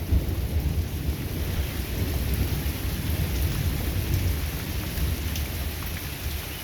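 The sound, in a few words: thunder and heavy rain during storm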